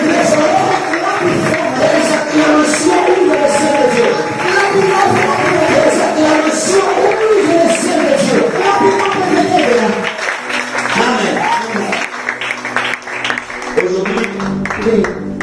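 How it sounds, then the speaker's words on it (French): A church congregation in Kampala applauds and cheers for Jesus, a dense, loud wall of clapping and voices that holds steady throughout, thinning slightly toward the end. "Acclamons très fort pour Jésus."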